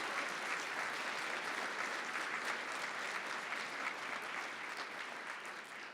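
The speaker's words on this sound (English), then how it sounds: "Give them all a big round of applause." An audience at a college awards convocation honoring excellence claps steadily, a thick, even rush of applause from a large hall that continues without pause and tapers slightly at the end.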